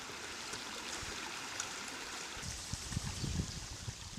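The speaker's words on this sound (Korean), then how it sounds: "단순히 물이 흐르는 개울로 보이는 이런 곳에서 정말 금을 얻을 수 있는 것일까?" A shallow stream flows steadily, a continuous close rushing wash with small gurgles and trickles rising toward the end, no voices present.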